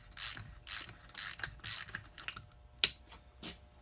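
A hand ratchet clicks in quick rhythmic strokes while removing the mounting nuts from an NP 205 divorced transfer case, close up and crisp, with a sharp metallic tap near the end and no talking.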